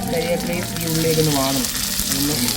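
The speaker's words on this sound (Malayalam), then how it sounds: "ആദ്യമേ കറിവേപ്പില ചേർത്തു, പിന്നെ ഉള്ളി, എണ്ണയും ചേർത്തിട്ട് അതൊന്ന് വാട്ടി വരണം" Curry leaves and onion frying in oil on a hot stone griddle at a hotel kitchen in Kollam, giving a loud, close, continuous sizzle with bubbling crackle and some background chatter and clatter.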